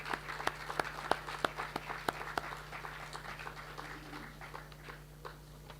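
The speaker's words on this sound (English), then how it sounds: "Let's give our Josephite houses a round of applause." A school assembly audience applauds for a few seconds, crisp individual claps standing out over a soft, thinning patter that fades toward the end.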